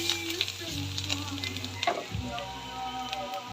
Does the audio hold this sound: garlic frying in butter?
yes